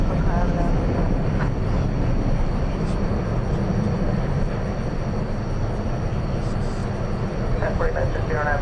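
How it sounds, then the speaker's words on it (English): Large aircraft taxiing across runway 18 right at DFW Airport at night, a steady broadband engine roar holding evenly throughout at moderate distance, with faint higher whine on top. "So this gigantic aircraft now crossing 18 right"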